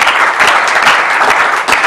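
A church congregation applauds in a loud, dense wash of clapping that holds steady for a couple of seconds with no voices over it.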